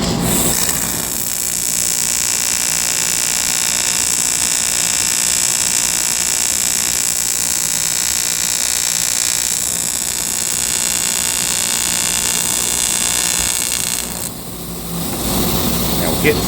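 A steady, loud high-frequency hiss and buzz from an aluminum TIG welding arc runs almost without a break, briefly dipping near the end.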